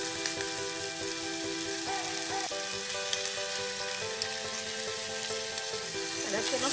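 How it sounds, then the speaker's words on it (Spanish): Chicken stock is poured into a pan of frying beef steaks and onions for bistec encebollado, giving a steady, close sizzle and bubbling crackle that runs continuously throughout. "Vamos a agregar el fondo de pollo."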